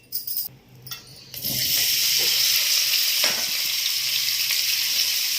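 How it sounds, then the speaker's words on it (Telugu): Paneer cubes hit a little hot oil in a pan with a loud, steady sizzle that starts after a few soft clatters and keeps hissing evenly. "పన్నీరు ఖచ్చితంగా వేపాలండి"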